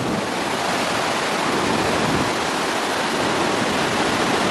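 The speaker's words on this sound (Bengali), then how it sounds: "জলটা আসছে এদিক থেকে, এটাও বেশ উঁচু থেকেই পড়ছে।" Waterfall at Jagdalpur dropping from a height, a steady, dense roar of falling water that stays loud and unbroken throughout, with no voices.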